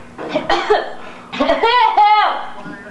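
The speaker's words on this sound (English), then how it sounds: "you're coughing up a lung because you're holding back the wiggle?" Someone coughs in short, close bursts, the harsh hacks breaking up into a throaty, laughing rasp, with voices heard around it.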